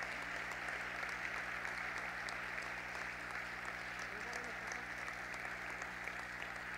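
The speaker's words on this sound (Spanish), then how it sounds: "les brindamos un fuerte aplauso a estos ex y exalumnas" Parents and guests at a school graduation ceremony give a round of applause for graduating students, steady moderate clapping heard from a distance over a constant low electrical hum.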